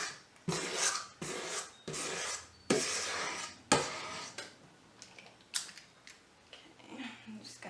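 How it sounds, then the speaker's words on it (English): A spatula scrapes the last of the carrot muffin batter from a mixing bowl into a paper liner, making a series of short rasping strokes in a quiet kitchen, each about half a second long, fading toward the end. "Scrape the remainder of the bowl into the last liner."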